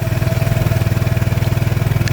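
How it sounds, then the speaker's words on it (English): A 2018 Vespa GTS 300 scooter engine runs on its main stand on flat ground, giving a steady, close, low, pulsing rumble with an even rhythm and no voices. "run the engine for 10 minutes, leaving the bike on the main stand and on a flat gradient"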